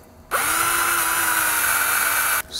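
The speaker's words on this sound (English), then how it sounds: "I am gonna need to drill bigger" A power drill bores a larger hole while brake lines are fitted on a Fairmont project car: a loud, steady high whine that spins up abruptly and runs for about two seconds before cutting off.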